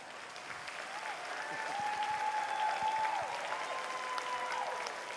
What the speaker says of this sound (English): You're going to need to clap a little louder